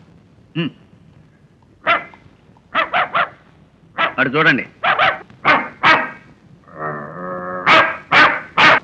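A man barks repeatedly in short bursts, imitating a dog, with brief talk before and a drawn-out howl-like whine near the end.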